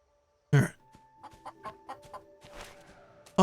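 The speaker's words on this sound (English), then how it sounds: "I know that's dumb chicken. Get out of my house." Soft, quick series of clucks from a chicken in the video game The Matchless Kungfu, faint and rhythmic between louder thumps and a low background hum.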